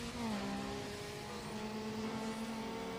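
Street-racing cars in Need for Speed Underground roar past at steady high revs, a continuous engine drone with a pitch that shifts slightly as the vehicles go by, at moderate level with no talk.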